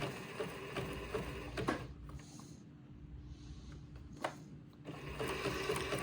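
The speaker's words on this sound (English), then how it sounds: "so that you've got your settings where you can see them to be reminded each time you need to sew entredo and lace together." A sewing machine stitches entredeux and lace together, a quiet close mechanical whir with rapid needle ticking that pauses briefly midway and then resumes.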